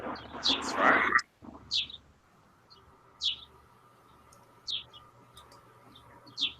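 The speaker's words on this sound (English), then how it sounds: "You can hear the birds, can't you?" Birds chirp outdoors in a yard, bright sharp calls repeating every second or so at moderate distance, following a brief louder burst of other sound at the start, over a quiet low background hum.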